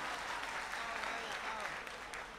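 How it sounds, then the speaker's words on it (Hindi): An audience at a mushaira, an Urdu poetry gathering in Titagarh, Kolkata, claps steadily. The applause is dense and continuous but fairly faint, heard from a distance across the crowd. "एक बार तालियां बजाकर मुझे हौसला दें"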